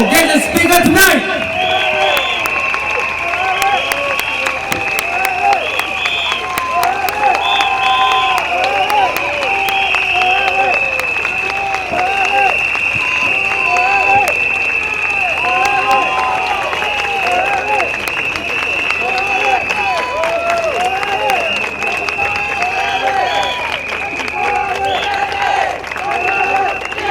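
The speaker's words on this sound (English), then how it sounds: "Once again, a round of applause." At an outdoor political rally in a stadium, a big crowd keeps up loud, steady applause and cheering for the whole stretch, with a constant high whistle tone over the dense clapping.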